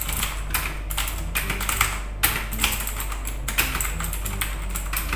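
Mechanical computer keyboard being typed on, a steady run of close, crisp key clacks with occasional louder strokes over a low constant hum, no talking.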